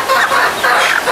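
A chicken clucks and squawks close by in a short, busy burst with no other sounds around it.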